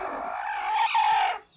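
A brooding hen sitting on eggs gives a single short, drawn-out clucking call, moderately loud and close, with nothing else around it.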